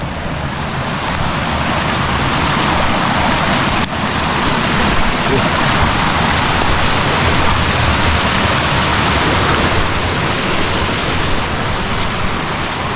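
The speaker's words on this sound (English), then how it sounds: "we've got some more waterfalls and bedrock." Creek water pours over small waterfalls and bedrock in a dense, continuous rushing wash, loud and close, with no break in the flow.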